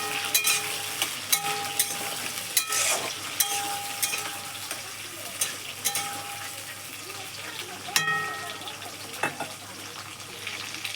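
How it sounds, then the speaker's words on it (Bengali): Chopped tomatoes fry with onions in oil in a pan, a continuous close sizzle broken by sharp clinks and scrapes of stirring throughout. "এরপরে দিয়ে দেবো টমেটো কুচি, এগুলো একটু ভেজে নেব।"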